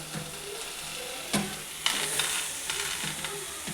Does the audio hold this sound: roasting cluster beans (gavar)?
yes